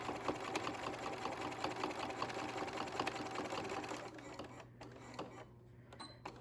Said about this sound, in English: I'm just gonna follow along the seam so that I know I have a nice straight line here